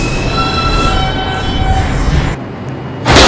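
A Manhattan-bound IRT 2 subway train in New York runs loudly with a rumbling roar and thin high wheel whine, dips briefly near the end, then surges back louder.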